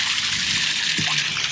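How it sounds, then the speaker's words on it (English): A saltwater washdown diaphragm pump forces water out through a deck hose on a sailboat, making a loud, close, steady hiss and spray. "It pulses because it's a diaphragm pump."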